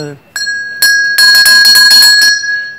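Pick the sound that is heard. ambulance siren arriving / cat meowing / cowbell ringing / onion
cowbell ringing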